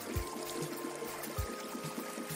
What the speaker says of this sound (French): le bœuf se jeta à la rivière et arriva de l'autre côté de la berge.